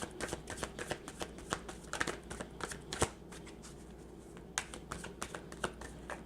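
Tarot cards being shuffled for a reading, a quiet close run of crisp riffling taps and slaps in irregular bursts, alone with no voices.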